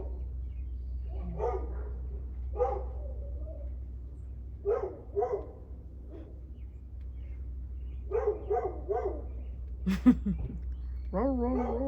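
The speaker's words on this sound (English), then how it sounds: "I hear a neighbor, John, playing with a dog" A neighbour's dog barking and yipping at a distance in short scattered bursts over a low steady hum, with some faint higher chirps mixed in.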